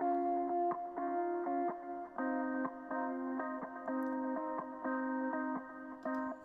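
A synth-style music track produced in FL Studio, processed with delay and reverb, plays alone with repeating sustained chords and rhythmic note changes at a steady, moderate level.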